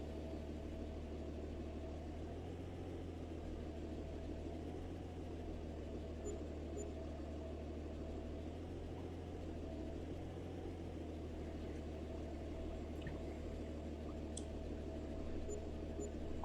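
A tractor engine in Farming Simulator 22 runs at a steady low idle, a continuous quiet drone with a faint rhythmic pulse and no change in pitch across the whole stretch.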